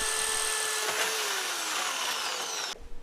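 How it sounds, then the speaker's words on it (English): A drill bores holes for a mounting bracket on a robot arm part, a steady high-pitched whine held close and loud for about three seconds before cutting off abruptly, with no voices. "Then I could turn my attention over to drilling the two holes for the mounting bracket"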